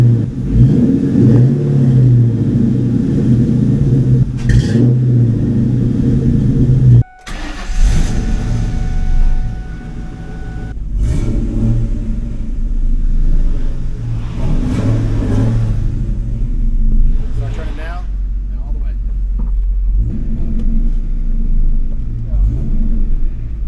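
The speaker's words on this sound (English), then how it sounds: "When this car warms up, I promise you guys, I'm gonna give you guys a couple revs on it" A 2002 Ford Mustang GT V8 idles loudly and is given a few rising revs, with the engine's rumble dominating throughout and a brief cut near the start. Voices are heard faintly beneath it.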